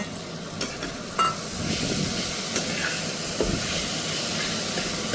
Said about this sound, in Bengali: এবার আমি এই ভেজে রাখা মাছগুলো এতে মিশিয়ে দেব